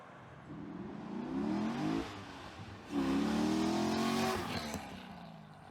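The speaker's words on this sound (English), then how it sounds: "We're in a C6 Zo6 with the big 7-liter engine." A Corvette C6 Z06 with a 7-liter V8 revs hard twice, rising to a strong roar each time before easing off, with a short lull between the pulls.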